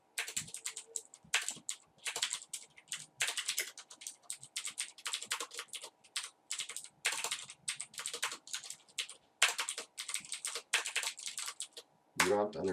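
Someone types HTML code into Notepad on a computer keyboard in quick, uneven bursts of close key clicks with short pauses. A brief voice comes in at the end.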